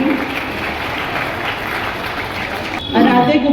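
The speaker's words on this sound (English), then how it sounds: "Student, I request you to keep on clapping." Students applauding at a school Independence Day celebration, a steady wash of clapping that runs throughout and swells louder near the end, with a voice speaking over it.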